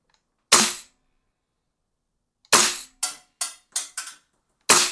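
Umarex HK 416 A4 gas blowback airsoft rifle fires six sharp, loud cracks, a single shot followed by a tight cluster of four and one more, with silence between.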